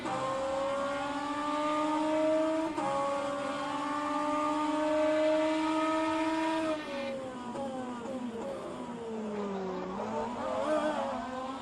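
Race car in rFactor 2 lapping Circuit Zolder, its engine a loud, steady high-revving drone that climbs through gears, then drops and surges again under braking and acceleration, heard alone.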